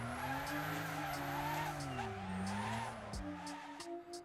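Turbocharged Nissan R33 Skyline racing in the game Wreckfest, a sustained droning engine note rising and falling through the revs, with tire skids and squeals and a few sharp knocks over the top.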